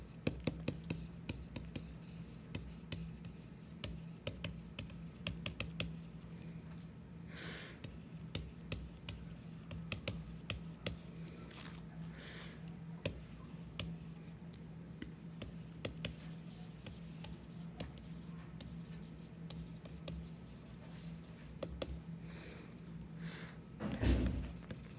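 A pen scratches steadily across paper as a chemistry definition is written out by hand, soft close strokes with small taps and pauses over a low steady hum.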